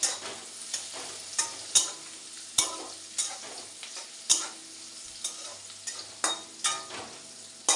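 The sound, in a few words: egg scrambled in frying onions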